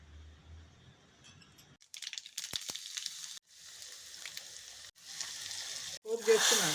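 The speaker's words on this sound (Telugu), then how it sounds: "పోపు చేస్తున్నా అండి" Tempering spices crackling in hot oil for tummikura dal, with bursts of sizzling and spattering that start and stop several times, growing loudest at the end, close and fairly quiet.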